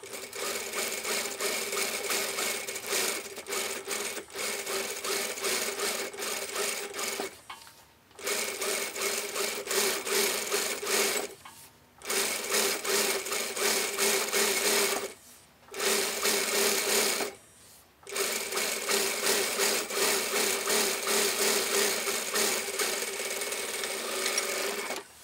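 A sewing machine runs an edge stitch for a fabric loop in steady fast bursts, stopping briefly four times between runs, loud and close with no talk.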